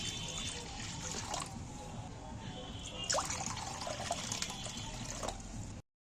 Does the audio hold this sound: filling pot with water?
yes